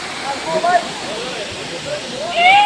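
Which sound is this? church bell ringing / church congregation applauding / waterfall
waterfall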